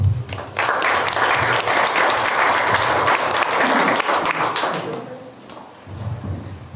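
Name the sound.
applause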